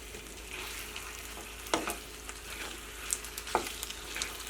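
A beetroot and peanut sauce mixture with spring onion is stirred in a pan, giving a soft steady sizzle with a few scraping clinks of the spoon, quiet and without talk.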